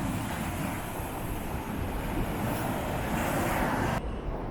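Sea surf at Blackpool roars as a steady, broad wash, heavily buffeted by wind noise on the microphone, with no voices, before cutting off abruptly near the end.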